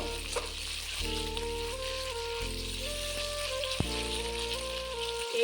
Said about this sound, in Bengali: মাংসগুলিকে আমি ভালো করে ভেজে নেব